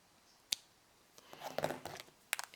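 Scissors snip tatting thread close to a beaded needle-tatted flower, with two crisp, faint cuts separated by soft handling rustle.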